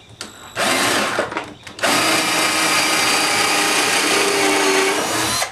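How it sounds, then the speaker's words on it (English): A power drill bores the main hole into 2x4 lumber for a kitchen bench, a loud steady whine running for several seconds after a brief start, stop and restart near the beginning. "So I'm gonna drill the main hole."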